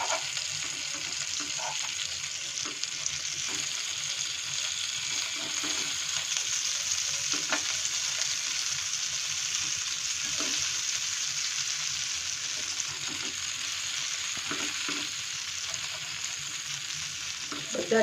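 Stuffed pointed gourd (parwal) fries in a pan and is turned over piece by piece. A constant oily sizzle carries on throughout, with scattered light taps and scrapes as the pieces are flipped.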